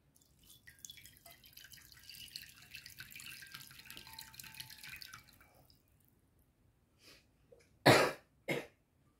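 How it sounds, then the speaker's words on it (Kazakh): Boiled bay leaf water strained through a sieve, running as a steady soft trickle for several seconds, then going quiet before two louder splashes or drips near the end. "Енді оны сүзгіштен сүзіп аламыз"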